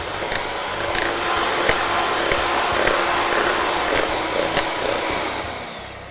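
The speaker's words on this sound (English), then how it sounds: "we're just going to beat that with the electric beater for about a minute" An electric hand beater whips egg whites with brown sugar for muffin batter, giving a steady, loud motor whir that holds evenly throughout and fades slightly at the end, with no talking.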